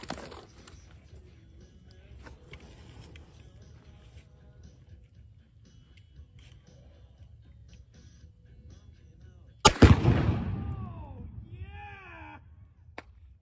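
A gunshot sets off 3.5 pounds of Tannerite explosive outdoors, a single sudden loud blast followed by a long rumbling roar that trails off over a few seconds, after quiet ambient noise and some ticking beforehand.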